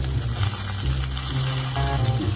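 Butternut squash bites frying in hot oil, a dense steady sizzle close by with a low hum underneath and a few faint clinks, with no voices.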